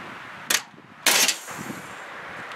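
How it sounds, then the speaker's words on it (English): Full-size framing nailer in single-fire mode sinking 3-inch coated nails into a standard 2x6, giving two sharp pneumatic bangs about half a second apart, the second louder and longer, with a faint hiss trailing off. "Now, what we're going to start out with is a full-size framing nailer."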